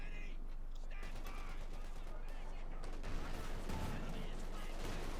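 Gunfire in a Company of Heroes 2 match between Wehrmacht and US Forces, with bursts of rattling shots and distant booms over a busy battle din while someone commentates.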